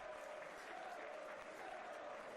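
A football stadium crowd at a Beerschot versus Jong KAA Gent match applauds as Jelle Vossen leaves the pitch: steady, distant, even clapping that fills the whole stretch without breaks.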